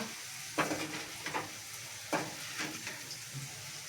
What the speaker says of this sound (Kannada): ಈ ಥರ ಚೆನ್ನಾಗಿ ರೋಸ್ಟ್ ಮಾಡ್ಕೊಳ್ಳಿ. ಮತ್ತು ಇದು ಪೊಟ್ಯಾಟೊ ಎಲ್ಲ ಗೋಲ್ಡನ್ ಫ್ಲೇವರ್ ಬರಬೇಕು